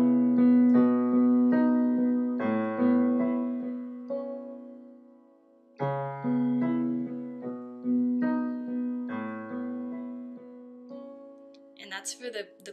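Both hands together on piano playing an arrangement, rolling chords with a low bass line, two phrases separated by a brief dip, close and solo, ending with a faint rustle.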